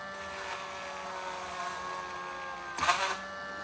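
A Dremel rotary tool on a simple benchtop stand drills a small hole in plastic, a steady high-pitched whine running throughout with a brief louder burst near the end as the bit bites through.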